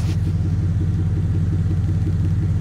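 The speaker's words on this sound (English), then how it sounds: "I'm gonna let y'all hear this exhaust while I'm in here" A car's exhaust idles close by in a deep, steady rumble with a throbbing low pulse, loud and continuous, with no talking.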